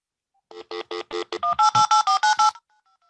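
Touch-tone telephone keys beep as a number is dialed, about ten short, clear tones in a steady quick rhythm, followed by a faint, softer tone repeating after the last key.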